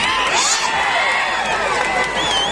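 A large crowd at the Kampli Utsav festival stage cheers and whoops loudly, with continuous mixed shouting and clapping filling the air at close range.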